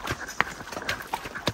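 Horse hooves clip-clop in an irregular walking rhythm on a rocky mountain trail from Bota Pathri toward the LOC border in India, several close, sharp knocks in quick succession.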